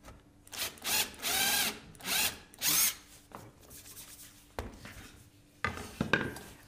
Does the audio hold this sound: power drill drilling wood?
yes